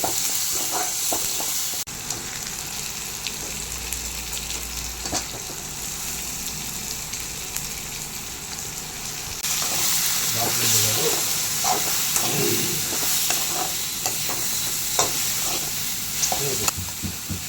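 Mushrooms fry in an onion-tomato masala with a continuous close sizzle and occasional stirring scrapes; the hiss grows louder partway through.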